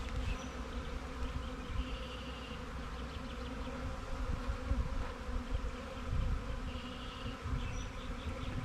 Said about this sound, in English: They're flying around, but they're not buzzing around like that, you know, eel or anything.